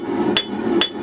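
Two sharp, ringing blacksmith hammer blows land on an anvil about half a second apart while a drive hook is forged near the hardy hole, heard up close over a steady low hum.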